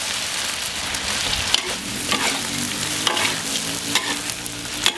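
Duck pieces stir-fried in a hot wok with fiery dried chilies, oyster sauce and dark soy sauce, giving a steady close sizzle with scraping stirs and clacks of the spatula across five seconds, no talk.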